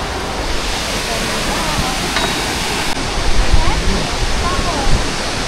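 Aw-asen Falls in Ilocos roars as a dense, continuous wash of falling water, loud and steady throughout with slight surges, with no talk over it.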